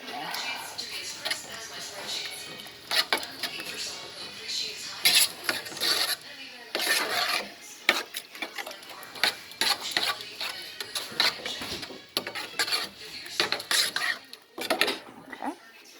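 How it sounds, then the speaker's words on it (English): A spoon scrapes and clinks against a metal pot while stirring a blended mix into ukwa, an African breadfruit dish, with irregular clatters and taps throughout at close range. "you go ahead and use your spoon"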